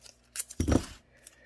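Scissors snipping through holster material in a workshop, a short pair of close, crisp cuts with one firmer bite in the middle, then quiet.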